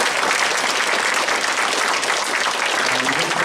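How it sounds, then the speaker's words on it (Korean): Dense, steady applause from an audience at a Korean peace briefing held in New Zealand, continuous loud clapping throughout with no gaps. "다시 한번 큰 박수 부탁드리겠습니다"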